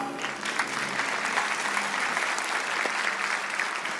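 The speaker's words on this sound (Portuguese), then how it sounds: "Forte aplauso pro Kaká." Audience at a motivational talk applauds loudly and steadily, a dense wash of clapping that holds from start to finish with no speech over it.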